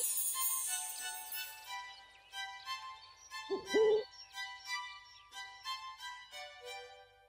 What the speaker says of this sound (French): Le hibou.